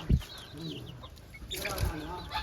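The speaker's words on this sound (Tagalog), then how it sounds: "Meron ako ditong manok." Chickens cluck softly nearby, a few short low clucks and bursts against quiet farmyard background.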